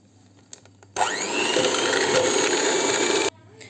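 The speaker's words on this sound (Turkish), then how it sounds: "mikserle çırpmaya başlayacağım" An electric hand mixer starts abruptly, whirs loudly and steadily for about two seconds whipping cake frosting with food coloring, then cuts off, with faint clatter before and after.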